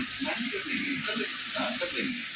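Eggs sautéing in a pan, a steady broadband sizzle with soft stirring scrapes and faint voices murmuring underneath throughout.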